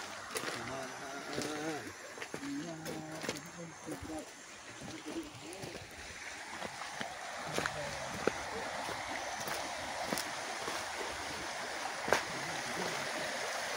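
River water flowing steadily beside a plantation in Bengkayang, West Kalimantan, a continuous soft rush with scattered clicks and knocks, while people talk over it throughout.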